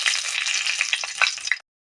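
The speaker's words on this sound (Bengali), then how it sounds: "পনির ভাজা তেলটাতে আমি শুকনো লঙ্কা আর তেজপাতা দিয়ে দেব।" Dried red chillies and a bay leaf sizzle briskly in hot oil left over from frying paneer, with a steady bright crackle and a few sharp pops before it cuts off abruptly.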